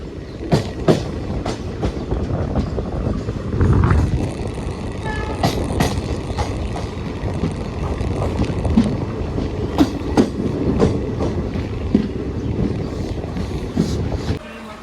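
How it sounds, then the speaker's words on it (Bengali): The Kanchankanya Express (13150, Alipurduar Junction to Sealdah) pulls out of Hasimara station, heard from aboard as a steady, loud rumble with rhythmic clickety-clack wheel beats and occasional sharper clanks throughout. "ট্রেন হাসিমারা স্টেশন থেকে এইমাত্র ছাড়লো"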